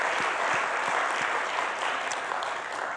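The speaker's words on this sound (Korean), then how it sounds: "박수 크게 드리겠습니다" Church congregation clapping during a Sunday worship service, a dense, steady wash of applause that holds at full strength for the whole stretch with no voices on top.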